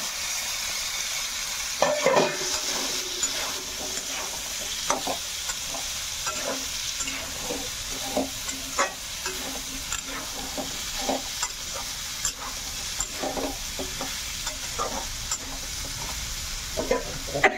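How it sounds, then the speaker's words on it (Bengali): Fried pumpkin, soybean and potato chunks stirred into sizzling spices in a pan, a steady hiss and sizzle broken by repeated scraping and knocking of a spatula in an irregular rhythm, close, no voices. "এবার আমি এই ভেজে রাখা কুমড়ো, সয়াবিন, আলু এগুলো আমি এখন ঢেলে দেবো মশলার ভিতরে"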